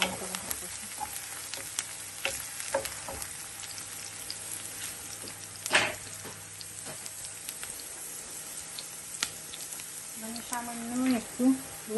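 Onions sizzling steadily in a pan for boal fish do-pyaza, a constant crackling hiss broken by occasional clinks of stirring, with a voice speaking briefly near the end.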